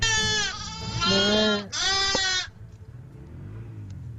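Several sheep bleat loudly together in drawn-out, wavering cries, two overlapping bursts, then fade to quiet outdoor rumble.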